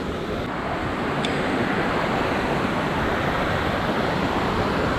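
Rushing water of a waterfall in the Hakkari region, a loud, unbroken roar of falling water heard close by and filling the whole scene.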